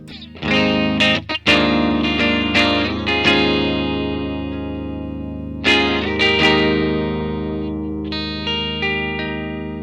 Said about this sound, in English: it might not normally be the guitar that you think about clean tones on, but so far I didn't think it sounded too half bad